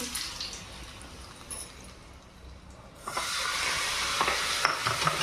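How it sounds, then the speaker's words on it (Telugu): Mustard seeds, chana dal, cumin and curry leaves hit hot oil for a tadka over lemon chili paste, bursting into a loud, steady sizzle that continues to the end after a quieter stirring start. "ఆవాలు, శనగపప్పు, కొంచెం జీలకర్ర, తాలింపు వేస్తున్న కారంలోకి కరివేపాకు"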